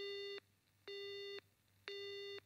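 A telephone busy signal: three evenly spaced, steady electronic tones, each about half a second long with short gaps between, clear and alone.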